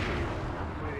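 Rifle shots in the Resident Evil 4 video game, a dense, booming burst of gunfire filling the whole second at steady loudness.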